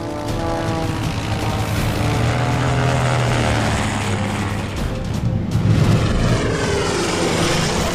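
A WWI Fokker DR-1 triplane's rotary engine drones loudly and continuously in flight, its propeller noise steady with slight shifts in pitch and no talk.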